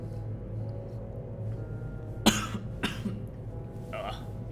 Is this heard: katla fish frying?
no